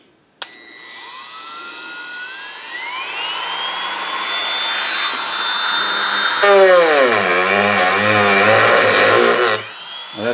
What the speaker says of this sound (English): I'm going to take a practice cut with this Dremel in the middle first